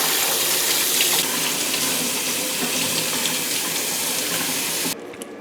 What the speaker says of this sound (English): you have to wash them thoroughly in between the leaves